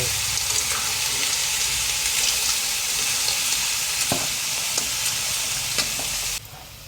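Food sizzles and fries steadily in a hot pan as ingredients are sautéed and stirred, with a continuous loud hiss broken by a few soft clinks of a utensil, the frying easing quieter near the end.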